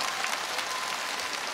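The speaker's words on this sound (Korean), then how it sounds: "박수 주시기 바랍니다" Audience applause at a KBS National Singing Contest taping in Andong, North Gyeongsang, rendered as a steady, dense wash of clapping from a large crowd that holds even across the short burst.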